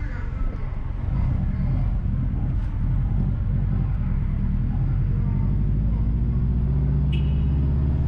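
A car drives north on one-way Orange Street through busy downtown Kingston, Jamaica, its cabin rumble and road noise heavy and constant with a low engine drone throughout.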